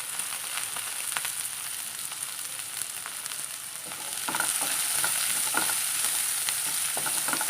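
Chopped small onions and a medium onion fry in a pan for a Kerala-style anchovy peera dish, giving a constant bright sizzle that grows louder partway through, broken by a few light stirring scrapes.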